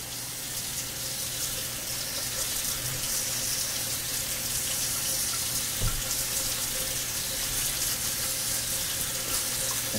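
Water runs steadily from a tap into a sink while preparing for a straight razor shave, a continuous close hiss and splash with no talking.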